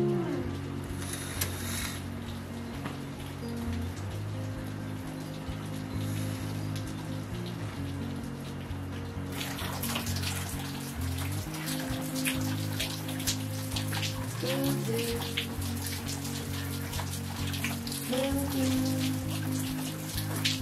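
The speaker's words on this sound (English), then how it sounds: "We woke up to rain, guys." Rain falls steadily at Lopez Beach Resort in Sipalay, Philippines, a dense hiss of drops that grows heavier and more crackling about halfway through, with a low steady hum underneath and no voices.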